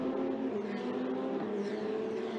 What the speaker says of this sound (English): the formation lap for said race is underway now as the drivers weave from side to side to try and get some temperature into the brakes and into the tyres